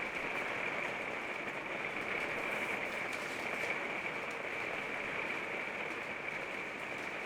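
Steady rain falls throughout as a dense, even hiss, loud and close, with no clear gaps or other sounds standing out.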